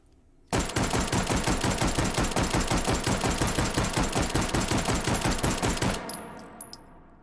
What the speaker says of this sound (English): out of curiosity, I'm gonna fire this one semi-auto, just like the other one